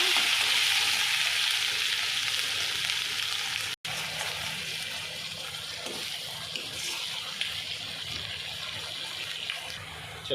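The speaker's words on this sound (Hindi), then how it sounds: "अभी ये पेस्ट हमको कढ़ाई में डाल देने का है, तेल डाल के।" Spice paste fries in hot oil in a kadhai for keema, giving a dense, continuous sizzle that softens slightly after a brief cut partway through, with light scraping and watery crackle throughout.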